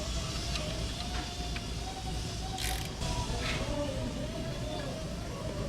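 A rigid 10mm ratchet wrench works bolts on a MerCruiser 8.2 MAG water pump, producing a close, continuous mechanical clicking and grinding with brief metallic scrapes, no talking.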